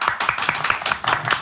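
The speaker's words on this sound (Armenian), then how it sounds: "ուրեմն ես ծափ տալիս եմ, նույնանք ծափ են տալիս" An audience at a television show claps in quick, even rhythm, about five claps per second. The claps sound close, loud and steady, with no other sound above them.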